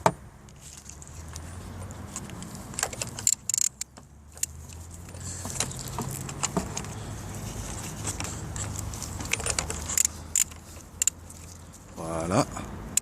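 A 27 mm socket on an extension works loose the oil filter housing of a Peugeot 206 1.4 HDi, with metallic clinks, ratcheting and tool taps close by amid a low hum, and a voice talking throughout.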